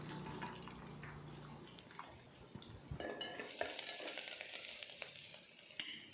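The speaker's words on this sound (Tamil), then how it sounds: "இது எண்ணெயிலே போட்டு வதக்குங்க" Garlic sautés in hot oil in a pan for a Tamil kulambu, a faint sizzle with stirring scrapes and clinks that grow brighter and hissier partway through, with no talk.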